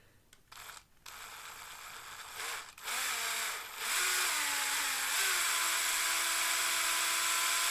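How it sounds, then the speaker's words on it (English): A power drill bores through the metal body of an 0-4-0 shunter model locomotive, likely aluminium, starting with short bursts and then settling into a steady, loud whine that rises in pitch, close up with no talking. "see if I can actually drill through here"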